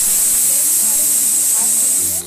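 A pressure cooker releasing steam while boiling bathua greens on a gas stove, a loud continuous hiss that cuts off abruptly at the end, with faint kitchen sounds underneath.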